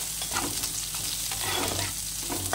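Chopped onion fries in oil for a Bengali doi rui fish dish while being stirred, creating a dense, close sizzle with rhythmic scraping pulses of the spatula over about two seconds, and nobody talking.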